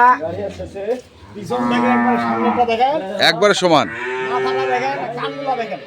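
A dairy cow on an agro farm in Dinajpur moos in long, loud, drawn-out calls close by, with people talking over and between the calls.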